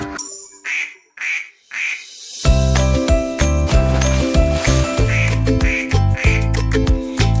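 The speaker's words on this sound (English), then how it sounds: "9 cute ducks say quack, quack" Three short cartoonish duck quacks ring out, then a loud bouncy children's counting song starts, with more quick quacks repeating over the beat.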